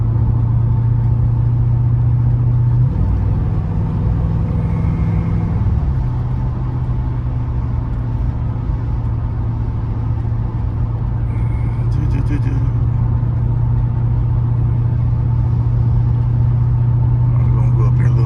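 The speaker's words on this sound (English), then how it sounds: "This is definitely a high-speed cruising car" A 1980 Porsche 928 cruising on the road, heard from the cabin as a loud, steady low engine drone with a brief shift in pitch early on, under someone talking.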